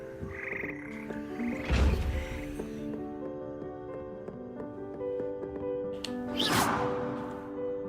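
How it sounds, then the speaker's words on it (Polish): Singing frogs in the Hogwarts Legacy video game croak in a layered, tonal chorus that runs throughout, with a couple of louder swelling bursts standing out over the steady background. "Śpiewające żaby."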